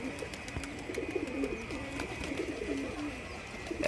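Several pigeons coo softly in a loft, with repeated low, rolling calls overlapping over a steady background hiss and no voices.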